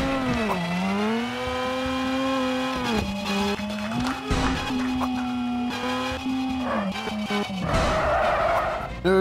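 Arcade-style car in the video game Screw Drivers brakes hard and spins out: a loud, steady engine drone bends up and down in pitch, then ends in a rough, hissing tire skid.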